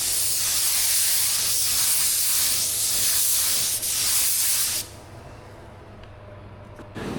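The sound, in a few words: spray gun applying paint coat to car fender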